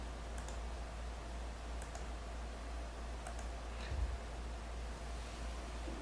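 Faint mouse clicks sound in quick pairs, a few times over a steady low hum, with one slightly louder bump near the end while someone sets up a transformer circuit in simulation software.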